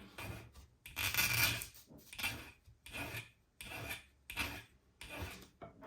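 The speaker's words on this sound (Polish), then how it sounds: "I do tego celu wykorzystujemy pilnik i lecimy." A hand file rasps against the shank of a cast gold engagement ring in close, rhythmic strokes, about six back-and-forth passes with short pauses between them, no voices.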